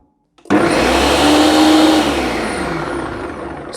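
A Ninja 3-in-1 food processor with Auto-IQ switches on abruptly and runs with a loud, steady motor whir that holds for several seconds, slightly easing toward the end, with no talk.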